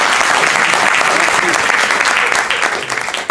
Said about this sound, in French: je vous demande de l'applaudir s'il vous plaît